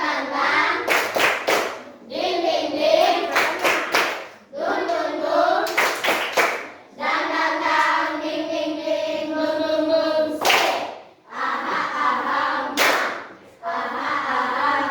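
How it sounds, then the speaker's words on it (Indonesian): A class of standing pupils performs tepuk semangat, a rhythmic spirit clap: sharp groups of claps alternate with loud chanting voices and singing, repeating in patterned bursts across the room. "Tepuk semangat."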